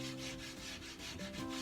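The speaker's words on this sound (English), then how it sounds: "It's a lot easier sanding it when it's not put together" Wooden tea tray pieces being sanded by hand before assembly, a steady continuous rubbing scrape with no talk.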